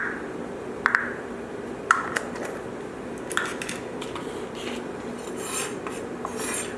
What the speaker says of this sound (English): Next we're going to coarsely chop the capers.